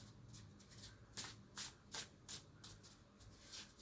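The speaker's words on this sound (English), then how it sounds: "we'll shuffle the deck" A deck of tarot cards is shuffled by hand, quiet close riffling and rubbing with several sharper bursts coming in an uneven rhythm.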